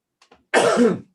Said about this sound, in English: what time to have a coughing fit